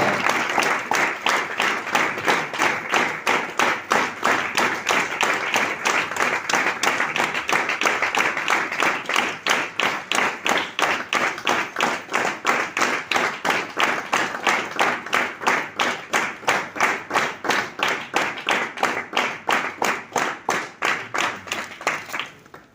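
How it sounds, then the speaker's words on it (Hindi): Enthusiastic audience clapping at a workshop in India while a leader is honoured with a bouquet, a long, loud crowd applause that settles into a fast, steady synchronized rhythmic clapping lasting over twenty seconds. "एक बार जोरदार तालियां से दोस्तों, शानदार तालियां, शानदार तालियां।"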